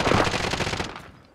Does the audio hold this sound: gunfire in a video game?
yes